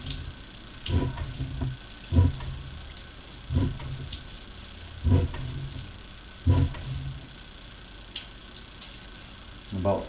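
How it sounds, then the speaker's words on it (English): Water running through a sewer pipe, surging in rhythmic low splashing pulses about every one and a half seconds over a steady hiss, with no talking. "The water is certainly more elevated through this section now that we got some water running."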